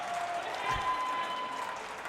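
A crowd at a racquetball match applauds, a continuous wash of clapping heard from a distance.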